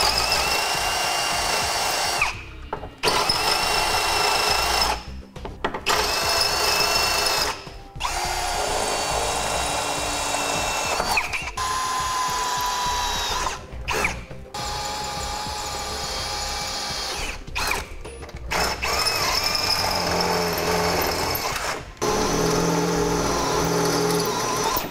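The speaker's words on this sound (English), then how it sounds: "We'll go out and drill the 3 remaining holes for our driver's side." A power drill bores holes into the driver's side front of a 2008 vehicle for a Blue Ox base plate, loud whining bursts close by, stopping and restarting about eight times with brief pauses between.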